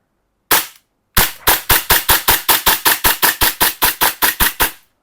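A Glock 34 Combat Master Taran Tactical gas airsoft BB pistol fires one sharp crack, then after a short pause a rapid, evenly spaced string of about sixteen loud, close pops.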